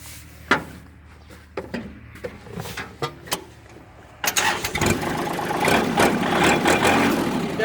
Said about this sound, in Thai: ดีครับผมสตาร์ทติดง่ายครับ